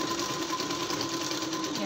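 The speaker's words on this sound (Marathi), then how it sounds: "पूर्ण स्टिच मारून झाली." A sewing machine stitches strips together for a blouse sleeve, giving a steady, continuous close-up whirring hum with no pauses.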